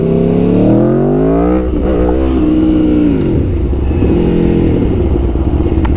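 A motorcycle accelerates for a power wheelie as the throttle is opened smoothly, its engine note rising steadily in pitch, then dipping and climbing again. The engine is close and loud, with no talk.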